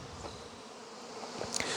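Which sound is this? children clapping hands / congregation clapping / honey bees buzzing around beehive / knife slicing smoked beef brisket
honey bees buzzing around beehive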